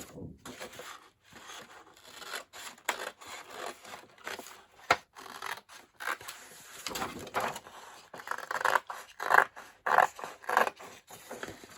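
Antique paper pages being cut by hand, giving quiet, uneven rasping and scraping strokes with short pauses between, growing a little more frequent and distinct toward the end.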